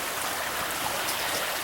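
Creek water flowing in Mason/Putnam County, West Virginia, swollen after the previous day's rain: a bright, even rushing hiss, close and constant, with no voices.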